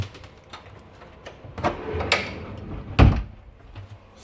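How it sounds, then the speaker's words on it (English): A pocket door in a tiny house slides out, giving scattered soft rolling and scraping bumps and ending in one sharper thud, near and alone without talk. "we've got the pocket door sliding out"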